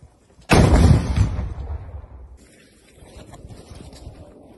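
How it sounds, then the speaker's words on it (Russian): A single loud artillery gun shot in war, a sharp blast followed by a long rumbling decay, then wind noise and faint activity after. "Выстрел!"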